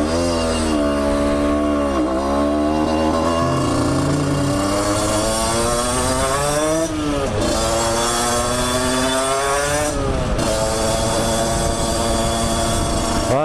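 Motorcycle with an aftermarket exhaust and kit, ridden gently during break-in, a loud, close, steady engine drone rising and falling through the gears with brief dips between shifts.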